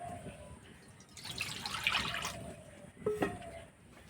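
Water poured into a kadai pan to boil for Maggi noodles, a faint, brief splashing trickle in a quiet kitchen.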